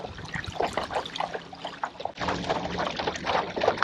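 A Hobie Mirage Lynx kayak glides through water, close swishing and burbling splashes in quick repeated surges with a sharper wash partway through.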